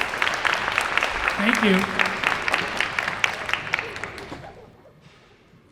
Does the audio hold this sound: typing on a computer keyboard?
no